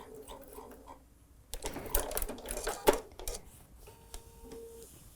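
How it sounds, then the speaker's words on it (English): Sewing machine backstitching bias binding onto a curved fabric edge, a short burst of rapid mechanical needle stitching in the middle with quieter handling noises before and after. "Let's backstitch."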